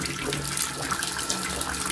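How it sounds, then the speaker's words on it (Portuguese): An LED kitchen faucet runs hot water in a steady, close, hissing stream that splashes into the sink without pause. "eu vou ligar a torneira agora para que vocês notem como que funciona o sistema"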